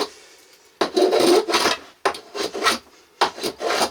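Hand rasping or filing of a hard, seasoned piece of wood: three rough, scraping bursts, each with several back-and-forth strokes, close and loud with short pauses between them; no talking.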